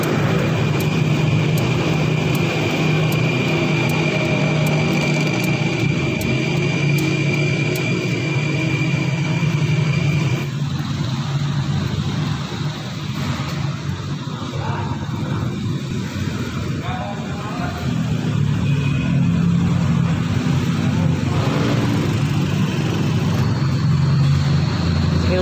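A 2000 Nissan Sentra engine idles steadily at close range, a continuous low rumble with a hard-starting, stalling fault, while people talk over it and other noise rises in the background.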